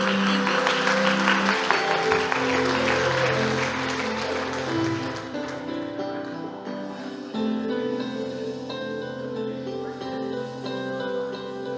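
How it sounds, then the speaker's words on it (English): A church congregation claps, a dense round of applause that is loudest in the first few seconds and then fades, with music playing underneath throughout. "Let's give them a round of applause"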